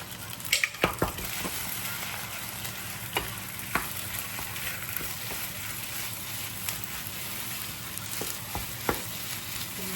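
Pork belly fried rice with a freshly added egg sizzles and crackles steadily in a hot pan, with occasional sharp clinks and scrapes of stirring throughout.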